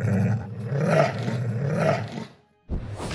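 A deep, loud video game demon cat roar rumbles on for about two seconds, then breaks off briefly before another growling burst begins.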